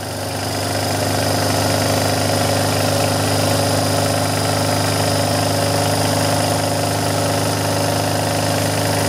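A Kromrey generator fed through a variac runs with a steady mechanical drone and vibration, holding an even tone close by for the whole stretch.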